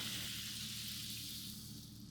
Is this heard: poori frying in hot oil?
yes